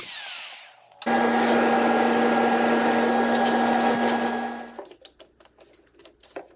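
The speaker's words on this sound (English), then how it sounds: "I cut the other tabletop out with the vacuum attached to the router" A loud, steady wood router whine with a roaring vacuum suction hiss kicks on sharply while cutting out a tabletop with a dovetail bit, runs several seconds, then cuts off, leaving scattered clicks and knocks.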